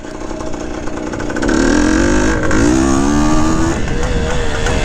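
Running engine of a 1970 Yamaha RT1 360 motorcycle, nearby and loud, idling then revving up around the halfway point with rising, wavering pitch that stays high before settling.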